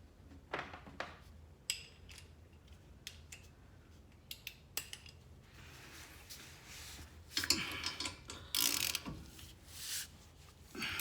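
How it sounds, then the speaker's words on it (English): A hand ratchet wrench clicks in short, irregular bursts at close range, mixed with metallic handling clatter during a mechanical repair. "Just gonna get my handy dandy ratchet."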